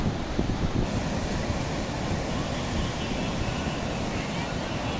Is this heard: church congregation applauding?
no